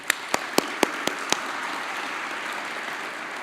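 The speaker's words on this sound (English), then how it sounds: "both of them deserve a round of applause" An audience at the Murrieta State of the City 2017 gives applause: a few sharp, separate claps at first, then a steady, even wash of clapping from the whole crowd.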